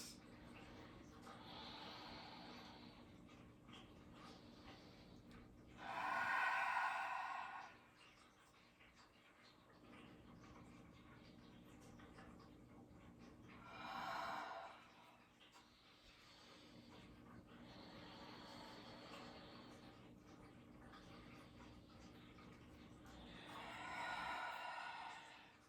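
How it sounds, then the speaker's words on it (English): Deep breaths drawn during an exercise session where the body balances on the outer edge of the left foot; three strong breathy exhales rise out of steady quiet breathing, over a faint constant background hum. "Big breaths."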